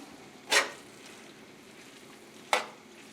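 A spoon scraping through a saucepan full of dirty rice, two short separate stirring strokes about two seconds apart over a soft background hiss.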